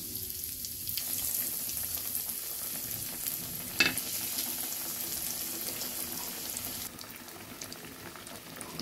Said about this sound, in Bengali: এরকম করে আমি সবগুলো চপকে ভেজে নেব।